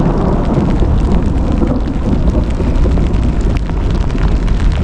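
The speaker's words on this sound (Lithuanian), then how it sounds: "Griaustinis baladuojas." Thunder rolling during rain outdoors, a heavy continuous rumble mixed with dense rain noise, loud and steady without clear separate claps.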